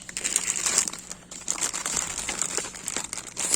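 Crinkling plastic food storage bag, a steady rustle with brief pauses, close and fairly loud, no voices.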